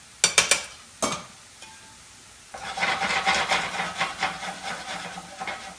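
Al dente pasta with onions and garlic stirred in a hot pan: a few sharp scrapes and clatters up front, then a steady sizzling hiss with repeated stirring scrapes, close and fairly loud, no talking.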